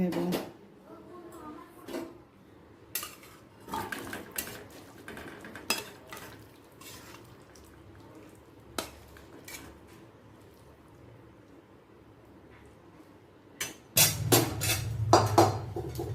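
Potato curry being scooped from one pot into another, with scattered metal clinks and scrapes of a spoon against cookware, sparse and close, ending in a louder burst of clattering.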